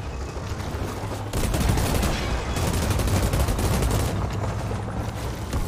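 Sustained automatic gunfire from the sci-fi shooter Outriders: a dense, loud, continuous rattle of rapid shots that grows heavier after the first second and keeps going without a break. No one speaks over it.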